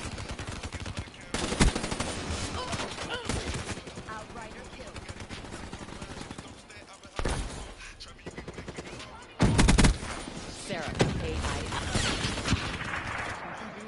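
Rapid automatic gunfire rattles in bursts through a Call of Duty Black Ops 3 multiplayer match, with several louder close volleys over continuous game noise while a player talks.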